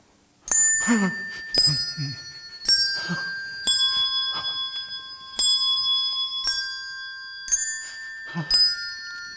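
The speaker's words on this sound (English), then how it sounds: "when the bell struck 1 and no shape appeared" Clear metallic bell strikes ringing out in a living-room performance of A Christmas Carol, several sharp dings with long sustained tones overlapping and decaying between hits.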